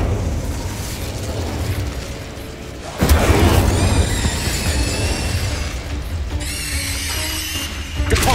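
Incendio fire spell cast in Hogwarts Legacy on PS5: a sudden loud whooshing burst of flame erupts after a stretch of rumbling game ambience, followed by crackling, bright shimmering magical tones and a second flare near the end, with no talking.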